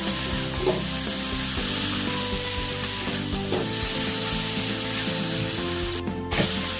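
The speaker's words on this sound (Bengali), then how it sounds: "ভেজে রাখা আলু পটলটা দিয়ে দিচ্ছি, ভালো করে কষে নেব।" Fried potato and pointed gourd sauté in spices in a hot pan, with a continuous loud sizzle, a spattering hiss and occasional knocks of stirring up close.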